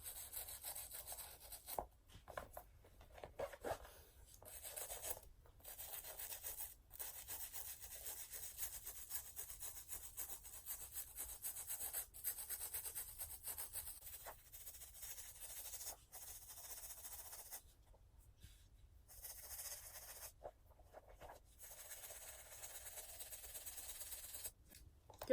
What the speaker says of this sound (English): you also have to scrub up and down on this shoe as well